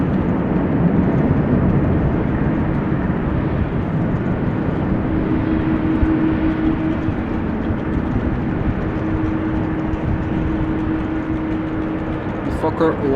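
A Fokker 100 airliner moving at Amsterdam Schiphol Airport gives off a steady, broad engine roar with a faint sustained tone. It holds level and continuous throughout, at middle distance, with no voices on top.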